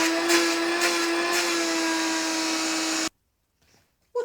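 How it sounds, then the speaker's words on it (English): A Henry Hoover vacuum cleaner gives a steady, close motor drone with a constant hum for about three seconds, then cuts off abruptly into near silence. "my vacuum cleaner works very well"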